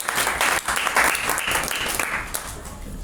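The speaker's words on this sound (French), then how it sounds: "On acclame fortement Jésus pour tout ça." A church congregation at a spirited prayer service claps and cheers in loud, dense applause that swells and then gradually tapers off.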